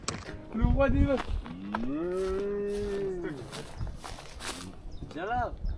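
Calves moo in long, drawn-out calls at close range on a Breton farm, one sustained bellow followed by shorter ones, with people talking around them.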